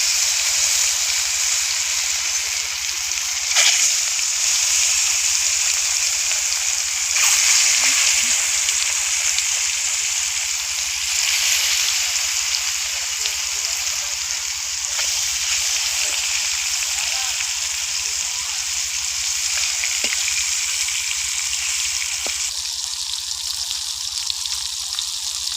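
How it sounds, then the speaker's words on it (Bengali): Tengra fish fry in hot oil in a wok. The sizzle is loud and continuous, with occasional sharp pops and crackles throughout. "তেল গরম হয়ে গেছে, এবার মাছগুলো দিয়ে দেবো"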